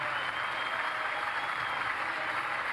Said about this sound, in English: applause around the ground in support